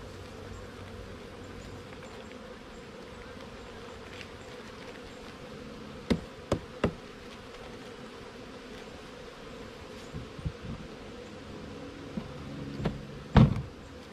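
Honey bees hum in a low, steady buzz around a hive during a honey harvest, broken by a few sharp knocks and clicks.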